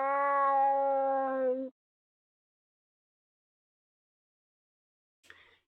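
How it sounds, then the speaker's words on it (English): A cat meow in an RPG Maker 2003 game, slowed to an extremely low tempo, comes out as one long, drawn-out, tonal drone lasting under two seconds, followed by silence and a brief faint click near the end. "Then it plays a sound effect of a cat played at extremely low tempo."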